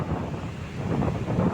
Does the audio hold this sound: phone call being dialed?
no